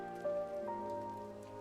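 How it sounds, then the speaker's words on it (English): Steady rain falls and spatters inside a room in the horror video game Lamentum, a dense continuous patter with a faint sustained tone running through it, close and even throughout. "you can see the rain coming in from the outside"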